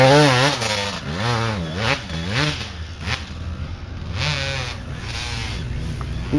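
A 2000 Suzuki RM250 two-stroke dirt bike engine revs up and down repeatedly nearby, loud and raspy with rising and falling pitch sweeps between brief dips toward idle.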